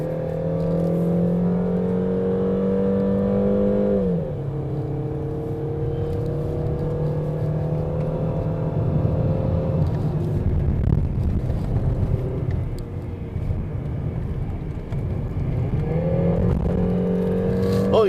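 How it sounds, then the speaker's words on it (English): A Peugeot 3008 engine drones steadily on a hill climb, and its automatic gearbox drops a gear with a clear jump in revs. The engine note then settles and rises again with a later shift, heard from inside the car. "Oh, it shifts down by itself too."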